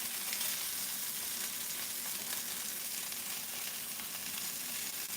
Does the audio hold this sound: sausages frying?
yes